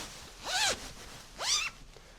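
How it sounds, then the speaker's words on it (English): The zipper on a Yogibo Max bean bag cover is pulled shut in two quick strokes, each a bright rising zip, heard up close with a short pause between them. "And then all you're going to do is finish by zipping it up."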